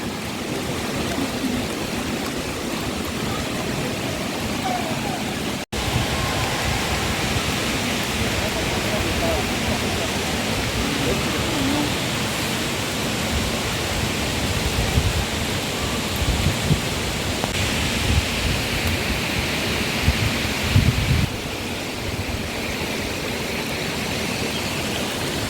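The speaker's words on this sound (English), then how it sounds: "so it's actually raining, like raining." Steady rain falls at Wli Waterfalls in Ghana as a dense, unbroken hiss, blended with the rush of falling water, continuous and fairly loud throughout.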